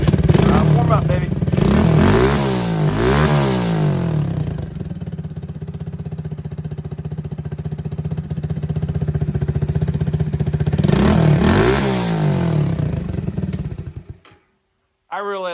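A 2022 IceBear Champion mini bike's small engine revs up in rising bursts, settles to a steady idle, then revs again before cutting off abruptly near the end.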